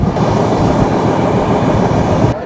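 The Rupshi Bangla Express rolls along in Bangladesh, heard from on board as a loud, steady, dense rumble with rhythmic clickety-clack of wheels over rail joints, continuous and with no voices.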